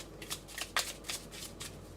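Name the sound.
tarot cards being shuffled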